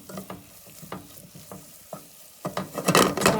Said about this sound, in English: the butter starting to brown